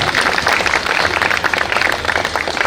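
An audience at the Banas literature festival gives loud, continuous applause on a cold evening, many hands clapping densely from start to finish.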